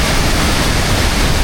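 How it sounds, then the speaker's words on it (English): The powerful Mississippi River rushes at a dam in a loud, dense, unbroken roar of water close by, with no voices. "The Mississippi is a very powerful river."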